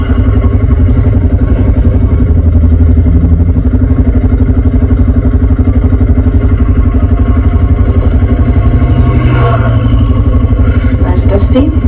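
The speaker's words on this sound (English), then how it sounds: "Oh, there's a motorbike coming." A motorbike engine drones loudly and continuously close by on a dusty track, its steady rumble dominating throughout with a slight rise in pitch toward the end.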